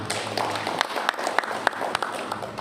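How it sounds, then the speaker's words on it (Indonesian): Applause from attendees at a community coordination meeting with local leaders in Sukorejo, a modest, uneven patter of clapping with a few sharper individual claps standing out, fairly close. "Tepuk tangan Bapak Ibu."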